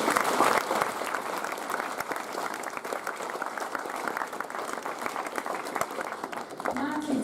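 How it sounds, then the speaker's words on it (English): An audience at a Year 10 school prize-giving applauds the prize winners. The clapping is loud and sustained at first, thins a little, and a voice starts up near the end. "Another huge round of applause for all of our prize winners."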